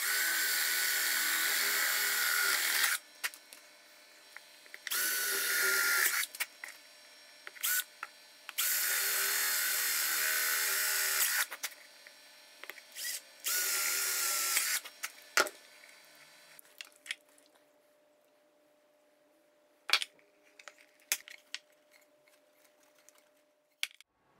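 A drill bores holes at the corners of a cigar box guitar, heard as several close, loud whining bursts of a few seconds each, separated by short pauses, then fading to quiet handling clicks.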